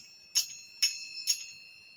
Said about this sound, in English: Everything except for a tiny tinkling bell.